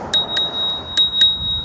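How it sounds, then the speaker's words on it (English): A little handlebar bell on an e-scooter rings in quick double dings, two pairs of sharp metallic chimes close to the mic over a faint background hiss. "Even has a little bell right here."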